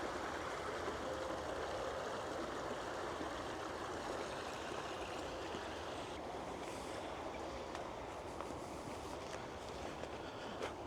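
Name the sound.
water thundering inside a culvert tunnel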